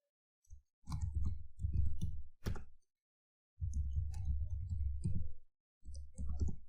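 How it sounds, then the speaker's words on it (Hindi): Computer keyboard typing in CorelDraw, heard as close, fairly quiet runs of key clicks in several short bursts separated by silent pauses. "virtualacademy.pk मैंने टाइप कर लिया।"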